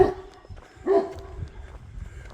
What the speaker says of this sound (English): So this is a Spanish Mastiff, I think.